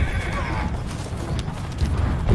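A horse neighs loudly and clip-clops in the video game Conqueror's Blade, the whinny rising over dense battle noise and a steady low rumble.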